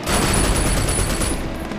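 Rapid automatic gunfire in the Sleeping Dogs video game, a dense continuous burst of shots that stays loud and close throughout, with no talking over it.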